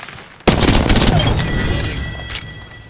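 Gunfire in Apex Legends bursts in loudly and holds as a dense, sustained volley of shots and booms, with a second sharp burst near the end, no talking.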